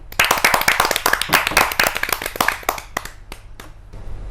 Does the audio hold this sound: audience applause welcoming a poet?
yes